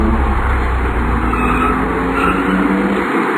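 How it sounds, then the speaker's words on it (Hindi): A car engine cranks and starts as a horror story sound effect, a loud, continuous mechanical roar with a tire-squeal-like rasp that holds steady for several seconds without any voices. "वैसे ही गाड़ी शुरू हो जाती है।"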